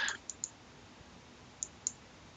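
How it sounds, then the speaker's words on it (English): Sharp, faint mouse clicks placing Black's move while reviewing a game of Go, a few isolated clicks spaced over a quiet background. "let me click Black's move first"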